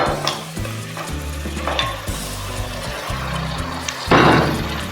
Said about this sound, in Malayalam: ബീഫെല്ലാം അതിലേക്കൊന്ന് ഇട്ട് കൊടുക്കാം.